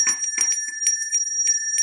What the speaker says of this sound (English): and release the bell. Isn't that fantastic? That's going to wake anyone up